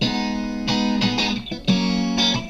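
Layered strummed guitar chords, one layer panned left and another right, in a band chorus section, ringing loud and bright with a few rhythmic strum attacks and no voices.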